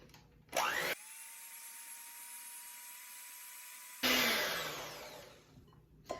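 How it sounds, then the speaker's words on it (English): An electric mixer whisks egg whites on low speed for a sourdough angel food cake: a steady, even whir for about three seconds, with louder rushing bursts before and after. "we're going to plug in our mixer, and then we are going to whisk this on low speed for 1 minute"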